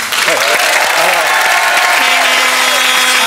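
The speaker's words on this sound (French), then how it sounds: "Alors, on reprend sur des applaudissements, s'il vous plaît" A loud, dense burst of studio audience applause at a French TV talk show, with a few voices rising over the clapping.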